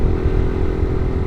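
A motorcycle holding speed on an open road, its engine droning steadily with a low rumble and constant wind noise, close and loud throughout with no pauses.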